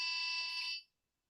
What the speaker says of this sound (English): When you come close to something, it says slow down, and then the buzzer turns on.